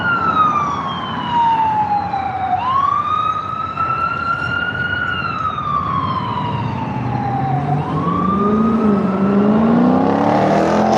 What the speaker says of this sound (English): Now watch how these people drive around an ambulance